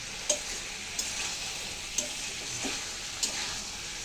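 Soybean chunks sizzle in hot oil in a pan, with a steady frying hiss broken by four or five soft scraping stirs of a spatula at roughly even intervals.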